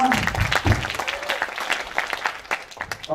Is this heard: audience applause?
yes